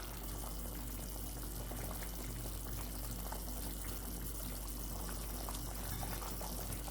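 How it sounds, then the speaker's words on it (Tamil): Steady, low bubbling and simmering of parotta salna curry in a pot, a continuous soft churning with no voices. "இப்போ குருமா நல்லா கொதிச்சிருச்சு"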